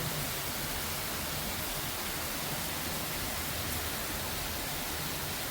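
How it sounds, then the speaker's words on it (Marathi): Heavy monsoon downpour without thunder or lightning, a dense, steady hiss of rain that stays uniform and unbroken throughout, with no voices. "फक्त आणि फक्त धुवाधार पाऊस आहे."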